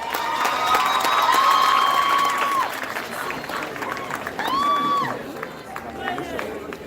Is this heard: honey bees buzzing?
no